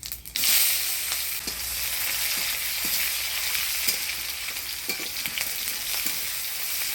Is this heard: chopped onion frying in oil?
yes